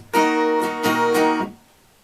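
Acoustic guitar chords strummed in a short rhythmic pattern, several quick strokes with a brief stop, then ringing out.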